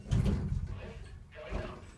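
Elevator doors on a mid-2000s Northern Lifts passenger lift in the Quays Shopping Centre, Newry, sliding shut with a low rumbling rush and a soft thud, then a second brief rumble, heard close in an indoor mall.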